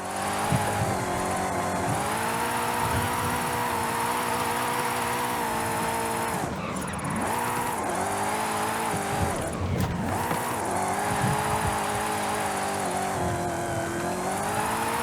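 A drift car's engine revs continuously in Forza Horizon 5, loud and close, with the pitch rising and falling and brief tire squeal as the car slides.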